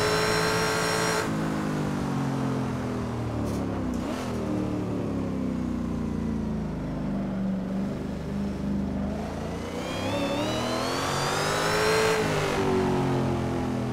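Supercharged 650 hp Ford Mustang Boss 302 in the Assetto Corsa racing game, its engine droning and revving steadily with rising and falling harmonics, loud and close, with no talk over it.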